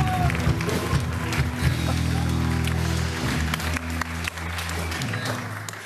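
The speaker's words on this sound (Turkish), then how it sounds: "Almış alkışı." A stand-up comedy audience claps in a dense, sustained wave of applause that lasts several seconds, loud and close, with a low droning hum underneath.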